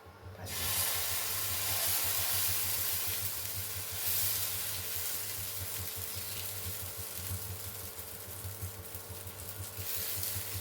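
Semolina pancake batter sizzles in a well-heated pan, a loud continuous hiss that swells after the first second and holds steady throughout, over a low electrical hum.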